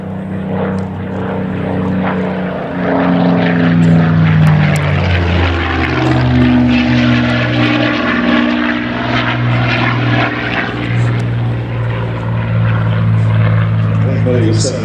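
A Spitfire propeller fighter flies a display at the Duxford air show, its loud engine drone swelling and shifting in pitch as it passes, while a commentator talks over the roar throughout.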